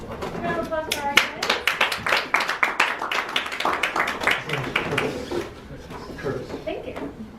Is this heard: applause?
yes